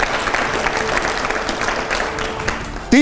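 Loud, continuous clapping from a large audience fills the space evenly, ending with a sudden sharp sound right at the close.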